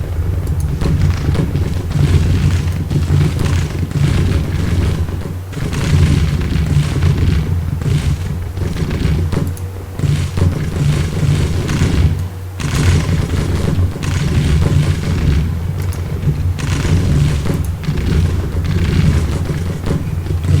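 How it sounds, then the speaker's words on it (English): Civil War artillery fire in Grand Tactician: Civil War rolls as dense, overlapping booms and a steady low rumble, loud and continuous throughout. "Artillery is finding shots over here."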